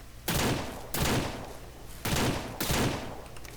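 Gunfire from a gun in the ranch simulation game Ranch Sim, with four loud, close blasts spaced roughly a second apart and each trailing off into a short decay.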